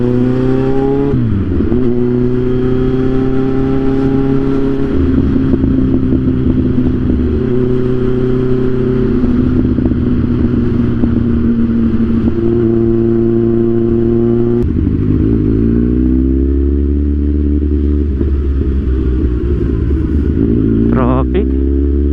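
Road traffic with motorcycles and cars in the Philippines, a dense, continuous engine drone with revving and shifting pitches from nearby bikes, steady and loud throughout.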